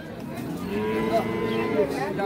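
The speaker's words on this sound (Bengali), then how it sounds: "এখানে একটা গাভী দেখছিলাম আমরা, হলস্টিন ফ্রিজিয়ান, সেই সাথে একটা বকনা বাচ্চা।" A Holstein Friesian cow moos at a cattle market, a short, close, low bellow over faint background noise.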